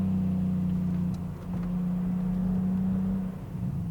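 A BMW fitted with Michelin PS4 tyres drives through corners at speed, its engine holding a steady, loud drone with a brief dip partway through, no talking.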